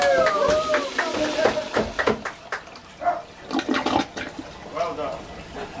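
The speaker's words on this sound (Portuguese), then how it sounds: "Está pronto para receber a primeira descarga." A newly installed, freshly sealed toilet flushes for the first time, its rushing, gurgling water swirling for several seconds while voices talk over it.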